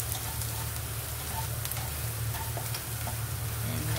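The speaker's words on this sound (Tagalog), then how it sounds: "Imimix lang natin hanggang sa maluto o mag-brownies ang ating sausage." Chicken sausage sizzles steadily in a hot pan, with a continuous crackling fry and occasional scraping stirs throughout, close and fairly loud with no talking.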